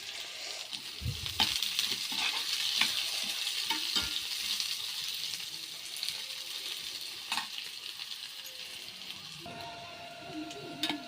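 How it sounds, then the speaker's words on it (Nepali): Onions frying in a pan for a village-style home vegetable dish, a steady soft sizzle under frequent sharp clicks and scrapes as they are stirred, with no talking. "प्याजको कलर चेन्ज हुने बेलासम्म भुट्ने।"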